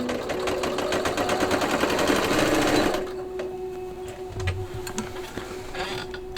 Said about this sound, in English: I'm gonna sew the pocket on first